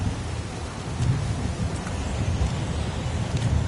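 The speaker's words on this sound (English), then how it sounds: "It's pouring rain." Heavy downpour and rumbling thunder in the video game Heavy Rain, a steady broadband rush of pouring rain with low thunder rolls swelling underneath, loud and continuous with no voices.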